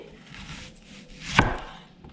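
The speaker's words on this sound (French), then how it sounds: "maintenant je vais commencer à le couper" A single sharp knife chop through an onion on a cutting board, one crisp close thud standing out against quiet kitchen background, with no talking.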